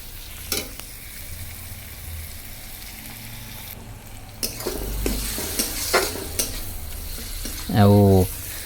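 Chicken curry with fenugreek greens cooking in a pan on a large gas stove, with stirring scrapes and a steady frying sizzle, then a loud burst of sizzling near the end.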